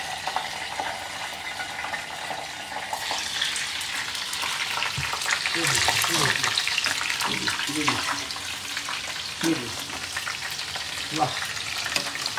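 Corn snacks frying in hot oil, a steady loud sizzle with bubbling bursts, over which a voice briefly exclaims and other soft clatter is heard.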